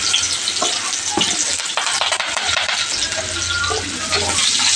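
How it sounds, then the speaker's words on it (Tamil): Onions hit hot oil in a pan alongside curry leaves, coriander and ginger-garlic paste for a country chicken fry, giving a loud, dense, continuous sizzle with frequent stirring scrapes, close up and without talk. "இப்போ எண்ணெய் காஞ்சிடுச்சு வெங்காயம் சேர்த்துக்கலாம்"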